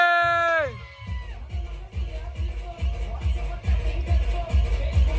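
A group of young men celebrating at a farmhouse cheer and shout over a pounding, rhythmic beat with heavy bass thumps, after a brief sustained horn-like tone at the start.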